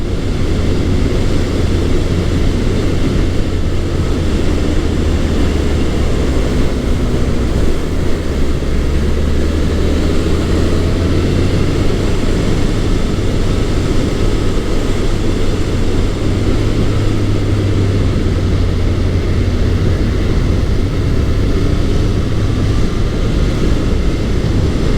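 A Honda CB1100 motorcycle cruises at 60 mph in top gear just under 3,000 RPM, giving a loud, steady low engine drone mixed with constant wind rush that holds unchanged the whole way.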